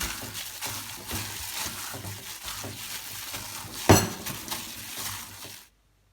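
Sausage filling is stirred with pepper and coriander root in a bowl, giving steady scraping and clinking of a utensil against the dish, with one sharper clank partway through before it cuts off.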